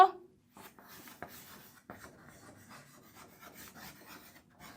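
Soft scissor snips and paper rustling as words are cut out of paper, with faint irregular rubbing between cuts, quiet and close.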